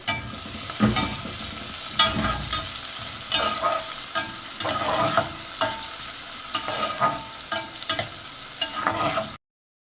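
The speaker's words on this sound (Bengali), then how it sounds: "তেলটা গরম হয়েছে এখন এটার মধ্যে আমি ছয় সাত কোয়া রসুন আর একটা বড় সাইজের পেঁয়াজ দিয়ে প্রথমে একটু ভেজে নিব" Six or seven garlic cloves and a large onion fry in hot oil for achari dal, giving a steady close sizzle broken by repeated scraping stir strokes, with no talking.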